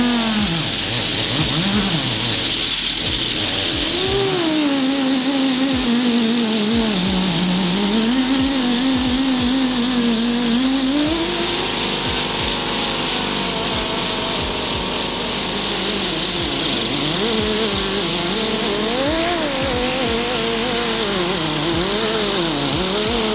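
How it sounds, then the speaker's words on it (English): A dual action sander converted into a grinder, used on an old fender of an Acura Integra, runs loud and continuously with a wavering, rising and falling motor whine and harsh grinding hiss throughout. "with DAs, you know, it's a dual action, of course, but you can also turn into a grinder"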